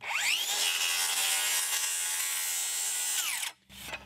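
DeWalt DCS573B cordless circular saw cutting through decking boards, a loud close whine held for about three and a half seconds before the blade spins down abruptly, then a brief clatter.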